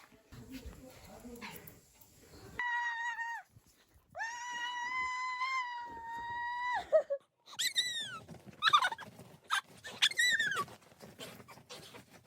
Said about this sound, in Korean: 하머니 집에 있는 강아지 또리.